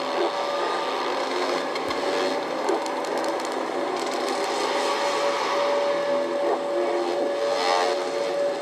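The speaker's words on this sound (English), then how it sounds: "The sound you're hearing is a light black hole banging on space each time it gets close." A steady, whooshing electronic drone with a faint rising hum, continuous throughout, no voices, a gravitational wave sonification of a light black hole spiraling into another.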